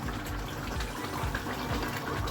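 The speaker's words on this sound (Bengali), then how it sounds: "এই যে বেগুনটা এখানে সিদ্ধ হচ্ছে।" Eggplant boiling in a pot of water, a close, steady bubbling and churning wash that runs without a break and without speech.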